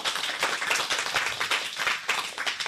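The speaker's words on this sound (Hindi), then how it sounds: "अब इसी बात में सब बच्चे तालियां बजाएं" Schoolchildren clap together at a school program, a dense, steady patter of many small hands lasting throughout with no talk over it.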